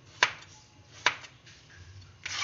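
A knife slices bottle gourd thinly on a board, giving two crisp, close cuts about a second apart, then softer scraping and a final rustling cut.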